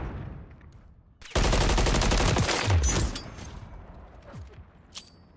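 Gunfire in a Call of Duty match, with a sudden loud sustained burst of automatic fire lasting about two seconds, then quieter scattered shots and a sharp report near the end.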